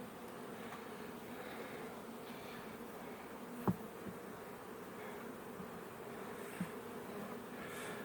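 Bees hum at a beehive holding a little honey, a faint, continuous, even drone with an occasional soft knock. It goes on unbroken throughout, with no talk over it.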